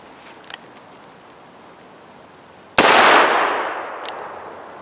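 A single sharp Ruger GP100 seven-shot .357 Magnum revolver shot, very loud and close, with a long decaying echo after a few seconds of quiet handling noises.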